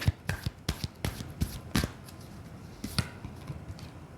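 Tarot cards being shuffled and drawn by hand, a run of crisp flicks and slaps in an irregular rhythm, close and fairly quiet, with no talking.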